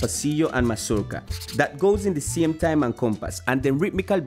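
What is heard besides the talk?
None of the usual background noises is heard.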